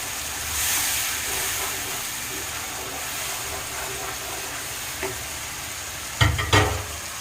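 Turmeric, chili and cumin powder with salt fry in oil for khichuri, giving a soft, steady sizzle under a faint background hiss. A couple of sharp clatters of a utensil against the pan come near the end.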